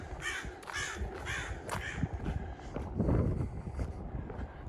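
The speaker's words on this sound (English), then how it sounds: "Crow having words." A crow caws repeatedly from nearby during a walk along a street south of Broadway in Regina, the harsh calls standing out over breezy outdoor background noise and wind on the microphone.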